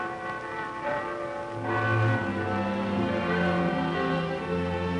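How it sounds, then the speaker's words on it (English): Church bells of Hanover ring out, several overlapping tolling tones with long sustained resonant hums that layer and blend into a continuous steady peal, heard without any talking. "The bells of Hanover"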